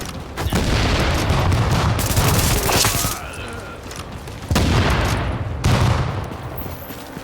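Gunfire and a grenade explosion in the video game Tom Clancy's The Division: dense rapid shooting with heavy booms, a pause around the middle, then renewed bursts of fire, loud and close.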